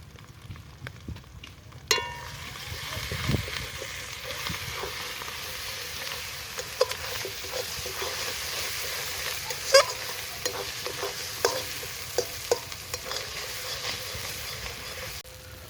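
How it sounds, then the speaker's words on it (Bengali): Ground coriander and cumin powder with chili powder sizzle in hot oil for a goat head curry, a steady soft frying hiss broken by occasional scrapes and clicks of stirring. "মশলা ভাজা হয়ে গেছে, তেল ছেড়ে দিয়েছে"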